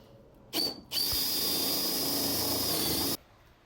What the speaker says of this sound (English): Then drill through the pad and the hull if you're using bolted Seacocks.